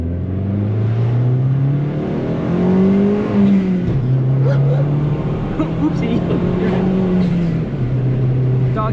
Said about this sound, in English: Doggy didn't like the blow off noises.